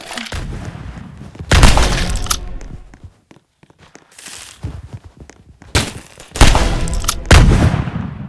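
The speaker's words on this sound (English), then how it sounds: "That was a sniper." Gunfire in a pistol arena round of a shooter video game, including a sniper shot, heard as several loud sharp blasts with ringing, crackling tails separated by near-silent gaps.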